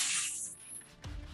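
A spray bottle gives a short hiss of mist during a vinyl wrap install on a golf cart's lower deck panel, followed by a faint rubbing sound, quiet and close.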